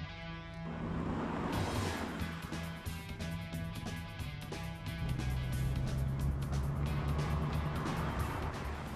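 A DeLorean with a 2.8-litre V6 drives steadily, its engine note loud and continuous throughout with a low drone that shifts pitch midway as it pulls along the road.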